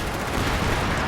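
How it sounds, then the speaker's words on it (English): Dense gunfire from a Company of Heroes 2 battle, with troops trading shots against a Panzer: a continuous loud crackle of shots and blasts with no pauses. "we are still shooting into these units here, who are actually shooting with the Panzer"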